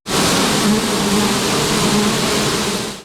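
Honeybees at an apiary in the Khmelnytskyi region drone loud and close in a continuous dense buzz that fills the whole stretch.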